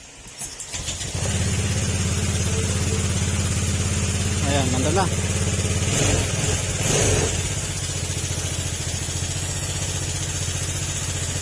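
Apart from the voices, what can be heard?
Honda Click 150 motorcycle engine running after fuse repair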